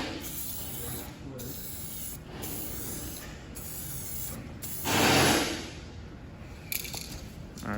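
Spray gun laying paint onto a sanded, blended car body panel during bondo repair, repeated close hissing bursts in short passes with a louder longer spray near the middle, under steady background hiss.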